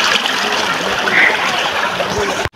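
Water rushes and splashes steadily in a river stream, a broad loud hiss that runs nearly unbroken before cutting off abruptly near the end.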